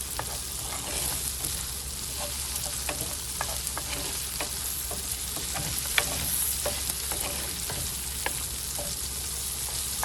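Unsalted butter melting with a little cooking oil in a pan, a steady close sizzle and crackle with scattered sharp pops throughout, no voices.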